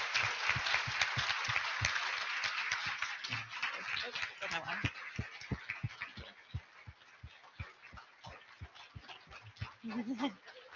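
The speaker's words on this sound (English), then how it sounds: "Let's help give a round of applause for our speakers today." Conference attendees at an extension fall conference clap for the speakers, a smallish group whose separate claps stay distinct and gradually thin out, with voices murmuring in the room.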